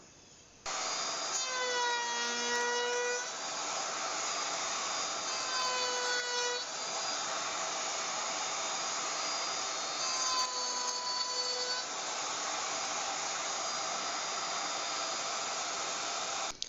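A wood router fitted with a round-over bit shapes a board edge, a steady loud whine with a few pitch-shifting cutting passes rising and falling, continuous and close with no talk.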